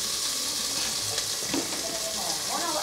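Fish sizzling as it fries in a pan over a wood fire, a steady broadband crackle and hiss running throughout at moderate loudness, with faint speech in the background.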